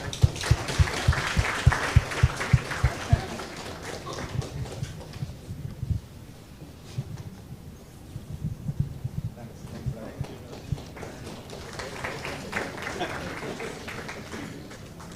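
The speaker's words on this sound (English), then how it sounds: "Let's have a round of applause" An audience at a product leadership business forum claps in bursts, loudest at the start and swelling again near the end, with voices talking over and between the applause.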